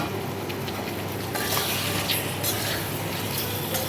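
Chopped potatoes fry with spices in a pan, sizzling loudly and steadily up close while being stirred, with the crackle growing livelier partway through; no one speaks.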